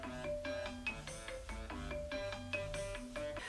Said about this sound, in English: and the phone keeps ringing.